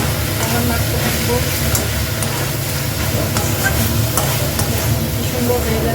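Chicken pieces frying and being stirred in a pan for a fried chicken roll, a continuous sizzle with scraping and stirring clatter close by, steady throughout.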